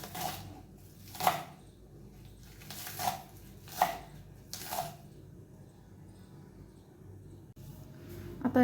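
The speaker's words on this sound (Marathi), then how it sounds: "आता ही स्वच्छ धुवून याला छान बारीक कट करून घेणार आहोत." Garlic and onion greens being finely chopped with a knife on a board: a few sparse, separate chops about a second apart, close and fairly quiet, with no talk.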